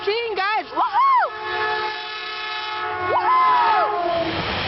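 A passing commuter train at Burlingame with a new 2016 cab car sounds its loud multi-tone horn in a few short bursts, then a longer blast, close by over rumbling rail noise.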